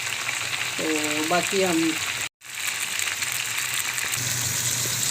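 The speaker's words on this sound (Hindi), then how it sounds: "तो ये हमने तेल में डाल दी है फ़िश, थोड़ी सी ये फ्राई करेंगे" Fish pieces for korma frying in hot oil, a loud, dense, steady sizzle close by, with a short spoken phrase near the start and a brief break midway.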